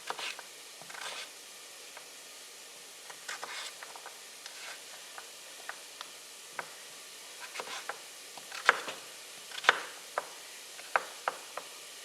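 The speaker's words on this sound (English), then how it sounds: "the only time-consuming issue with this soup is chopping the vegetables" Irregular knife taps on a cutting board as vegetables are chopped for butternut squash and apple soup, soft and close, with sharper chops clustering toward the end and quiet pauses between.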